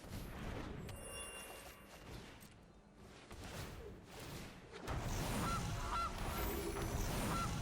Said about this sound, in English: Play the ring, then we can play the goose.